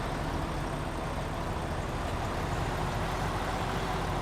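A Freightliner truck engine in the Snowrunner game rumbles low and steady at the Paper Factory in Wisconsin, a constant, close drone with no break.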